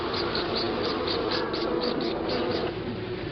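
Honey bees at a hive in Australia give a steady, dense buzzing drone with a faint rhythmic pulsing, continuous and close throughout.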